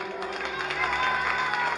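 A live audience applauds and cheers at a children's show, a dense, steady wash of clapping and crowd noise with voices mixed in throughout.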